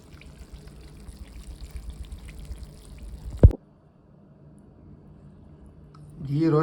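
Ghee is poured into a pan for a chicken ghee roast, a soft trickling stream heard close up for a few seconds. It ends with a sharp clunk, then a faint sizzle follows.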